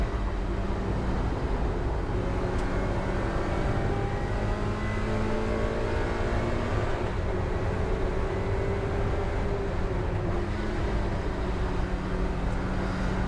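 A race car engine at Brands Hatch GP circuit during a Trackday Trophy race, droning loud and steady from the cockpit as engine notes sweep up and down through gear changes, with no pauses and no talk.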